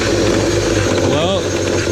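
A 2002 BMW 540i E39 parts car's engine runs roughly and loudly up close, a dense uneven rumble filling the whole moment with no talk over it.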